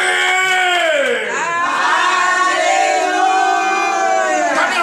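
A church congregation at a morning prayer service in Benin cheers loudly, with sustained voices shouting and ululating together in rising and falling waves that fill the whole stretch.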